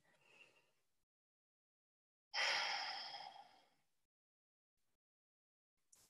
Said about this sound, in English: Breath in and breath out.